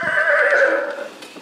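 A toy horse lets out a loud, close electronic neigh, a single whinny lasting about a second that tapers off into near silence.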